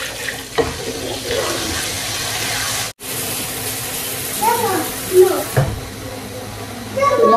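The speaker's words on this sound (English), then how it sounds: "I am going to add water." Water pours from a tap into a cooking pot on a home stove while dinner is prepared, a steady running splash with a brief break and some clinks of the pot.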